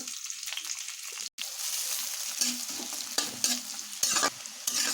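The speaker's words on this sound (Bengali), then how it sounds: "একই কড়াতে আমি তেল দিয়ে দিব এখানে পেঁয়াজ আদা রসুন কাঁচা লঙ্কা কুচিয়ে রেখেছিলাম সেটা দিয়ে দিব" Chopped onion, ginger, garlic and green chili fry in oil in a wok with a steady close sizzle, punctuated by repeated spatula stirring scrapes and one short cut-out.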